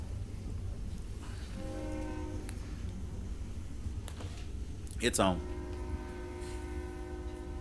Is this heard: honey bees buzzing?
no